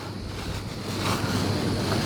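Steady sea waves wash onto a beach, a continuous loud surf roar mixed with wind noise on the microphone and no speech.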